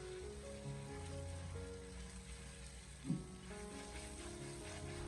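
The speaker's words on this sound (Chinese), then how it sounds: "用锅铲给它翻炒一小会，把它翻炒均匀，让所有的调料充分的融合在一起" Garlic and seasonings sizzle quietly as they are stir-fried with a spatula over low heat, a steady soft frying hiss with one brief scrape partway through.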